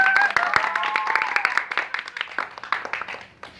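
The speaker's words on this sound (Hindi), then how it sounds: "सब लोग एक साथ ताली मारो" Street crowd clapping for a magic show outdoors: a scattered burst of hand claps from a gathered group, starting fuller and thinning into uneven separate claps, with a brief tonal sound at the very start.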